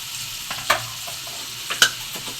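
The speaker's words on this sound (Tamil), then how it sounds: "வெண்டைக்காய் வந்து வதக்கிட்டு இருக்கோம்" Okra sautéing in hot oil, with a faint steady sizzle and two sharp scraping clinks of a spatula against the pan, no voices.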